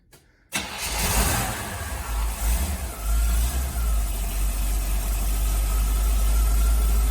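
A 1976 Corvette C3 engine cranks and fires after a brief silence, then settles into a loud, deep, steady idle with a rumbling low end that continues to the end.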